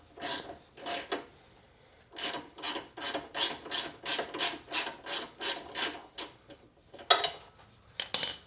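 A 5/8 wrench ratcheting a bolt off the brake pedal mount of a Harley touring motorcycle, a close series of even rasping clicks in short bursts, then a pause and a few scattered metallic taps near the end.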